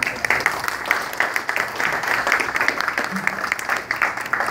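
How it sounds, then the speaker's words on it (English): A community gathering's audience claps for its volunteer committee, a lively, continuous round of applause with scattered sharp claps and faint crowd voices mixed in. "So join me in a round of applause to them"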